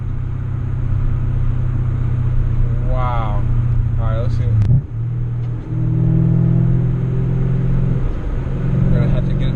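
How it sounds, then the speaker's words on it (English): A BMW M4's exhaust and engine idle in a steady low rumble and then blip through a couple of short revs, heard up close while someone talks over it. "It's like making music with the exhaust note."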